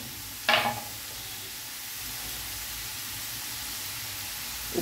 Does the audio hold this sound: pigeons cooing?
no